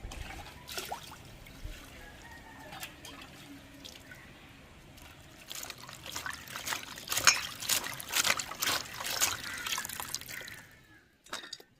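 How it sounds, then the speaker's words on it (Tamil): Water trickles and drips steadily as dried anchovies are rinsed in a kitchen, growing louder and busier with splashing toward the end before stopping abruptly. "இப்போ நம்ம வந்து தண்ணியில் கழுவி எடுத்துக்கிறோம் நெத்திலியை"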